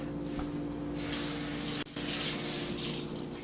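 Two medium carrots rinsed under a running kitchen tap, with a steady close rush of water that briefly cuts out and then resumes with splashier spattering, and no one speaking.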